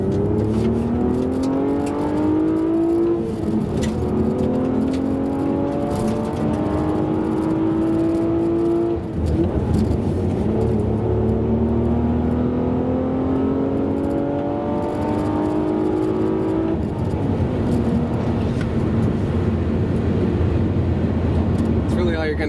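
A 2016 Honda Accord Coupe with a 6-speed, its engine droning and rising in pitch through repeated gear pulls while driving, heard from inside the cabin with road noise and someone talking over it.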